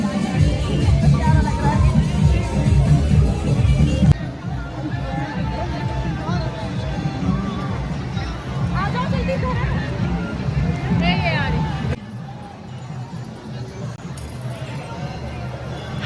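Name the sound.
crowd hubbub at a busy gathering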